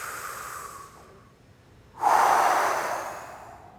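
A person takes a quiet breath, pauses, then blows out one hard, forceful exhale, close and loud, fading over about two seconds.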